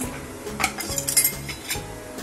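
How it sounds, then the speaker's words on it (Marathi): A pan and an iron kadai with oil are set on a stove, making light metallic clinks and knocks in a quiet kitchen while a shev bhaji curry is prepared. "इथे मी पॅन ठेवलाय, कढई मध्ये तेल टाकलंय।"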